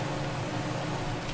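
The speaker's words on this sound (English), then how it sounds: "It's still raining." Steady rain falls on a farm, a dense continuous hiss of drops at even loudness with no voices.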